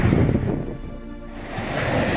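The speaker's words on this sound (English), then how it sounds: "The water rushing ashore into homes." Tsunami water rushes ashore on Tonga's main island, Tongatapu, in a loud, roaring surge with heavy wind-like rumble, swelling, easing slightly and building again.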